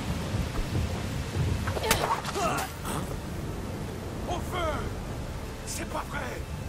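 Heavy rain pours steadily in A Plague Tale: Requiem, with thunder rumbling low beneath it and a brighter crack near the two-second mark, while voices talk over the storm throughout.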